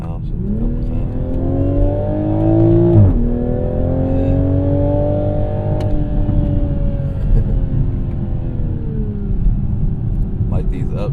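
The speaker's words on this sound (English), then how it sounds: "Downshift a couple times." Toyota GR Supra engine blipping and revving through downshifts, heard from inside the well-insulated cabin, rising and falling tones with a sharp throttle blip near the start.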